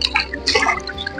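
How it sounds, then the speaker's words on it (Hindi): A Banarasi saree washed in shampoo is sloshed and rinsed by hand in a tub of fresh water, making brief close splashes and drips with no talking. "देखिए दोस्तों इसको फ्रेश पानी में अब खंगाल रहे हैं"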